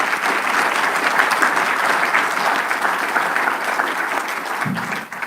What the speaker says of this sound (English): let's give our elected officials a round of applause